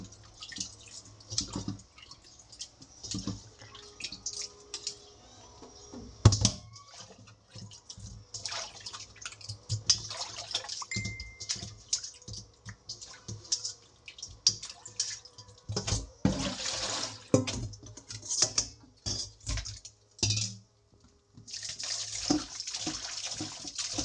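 Large squid from Marinduque being washed under running water in a kitchen, with splashing, dripping and sloshing in irregular bursts, close and moderately loud.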